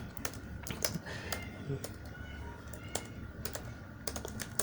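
Keys tapped on a computer keyboard while an NIC number is entered into an online form, a steady run of sharp clicks with brief pauses, close and clear, over low background noise.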